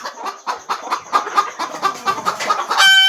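Free-range village hens cluck in a rapid series of short, close calls, about a dozen bursts in three seconds, ending with a brighter, sustained sound.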